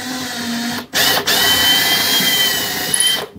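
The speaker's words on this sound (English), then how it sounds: "start the drill in an upright position" A power drill whirs steadily into a wooden stair tread, briefly stopping twice near the start, then running continuously at close range before cutting off.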